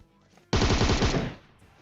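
A single loud burst of rapid automatic gunfire erupts in PUBG Mobile, lasting under a second with tightly spaced shots, before cutting back to quiet background.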